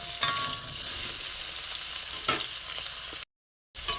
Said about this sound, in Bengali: এঁচোড়টা ভেজে নেব, ভাজা হচ্ছে এখনও।